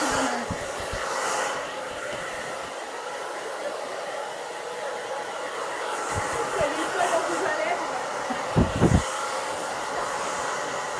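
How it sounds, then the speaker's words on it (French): Professional hair dryer blowing steadily on someone's hair for the whole stretch, a loud continuous broadband whoosh with a few brief louder bumps near the end and faint talk underneath. "alors d'abord, je te sèche les cheveux"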